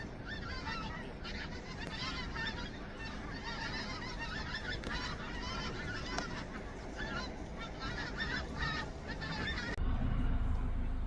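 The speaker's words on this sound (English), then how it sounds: "on my bird app I checked and it says they're pink-footed and white-fronted geese." A flock of pink-footed and white-fronted geese honks continuously in the distance, a dense overlapping chorus of calls that carries on throughout, with a low rumble joining near the end.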